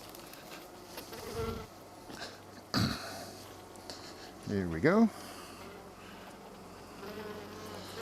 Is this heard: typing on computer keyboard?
no